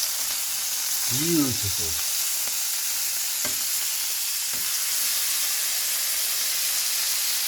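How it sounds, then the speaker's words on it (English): A fillet steak, just flipped in a frying pan, sizzles with a strong, steady hiss and spitting. Someone speaks briefly over the sizzle early on. "So we're going to give it a flip."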